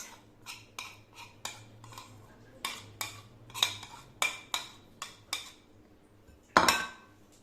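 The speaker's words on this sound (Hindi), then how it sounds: "तो हमने ये गाजर और ये चीज़, इसको हमने कर लेना है मिक्स।" Grated carrot and cheese mixed with a utensil in a bowl, producing a series of sharp clinks and scrapes at an irregular rhythm, close and clear over a low background hum, with no one speaking.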